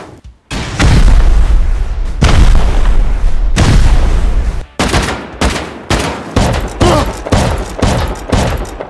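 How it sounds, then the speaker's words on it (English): Rockets fired at a base in a video game, a series of loud booming explosions and rapid blasts, long rolling bursts at first giving way to quicker repeated hits, with no talk over them. "So, cue the rockets."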